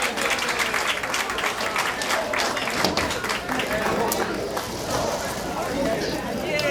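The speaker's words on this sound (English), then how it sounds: "let's have a nice round of applause for the band now" An audience applauds a band at a Breeze Country event honoring Hat Lady Mary, dense sustained clapping from a crowd filling the room at steady volume throughout, with speech mixed in.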